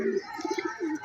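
Pigeons in a rooftop loft give a short, soft series of low rolling coos, a few quick pulses followed by a longer drawn-out call, moderately close with faint background noise.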